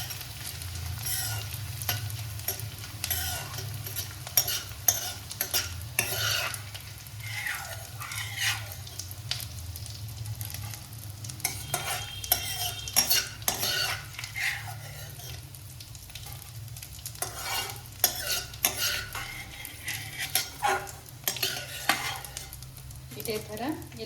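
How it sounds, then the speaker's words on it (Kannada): Edible gum fries in melted ghee over a low flame, stirred in a pan, giving a soft continuous bubbling sizzle under frequent clinking and scraping of the spoon, close and moderately quiet, no speech. "ತುಪ್ಪ ಕರಗಿದ್ಮೇಲೆ ಸ್ವಲ್ಪನೇ ಅಂಟು ಹಾಕ್ಕೊಂಡು ಕರ್ಕೊಂಡು ತಕ್ಕೋಬೇಕು."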